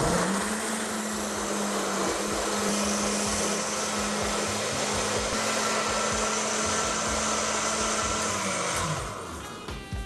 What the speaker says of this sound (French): On va mixer les légumes.